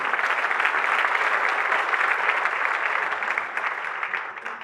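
A church congregation gives sustained applause, a thick, even roar of many hands clapping that fades slightly toward the end, with no speech over it.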